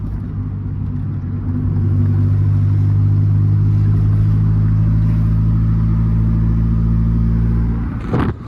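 A Honda Civic EG4 engine drones at steady high revs, loud and enclosed, echoing in a tunnel, with a brief sharp rise near the end as VTEC engages.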